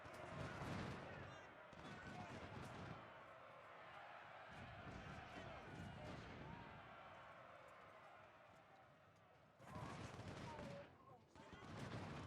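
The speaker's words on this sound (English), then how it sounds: "I'm going to fire into the enemy" Musket volley fire in the Ultimate General: Civil War strategy game, with dense crackling bursts of massed gunfire at the start and again near the end and sustained rattling fire between, while someone talks over it.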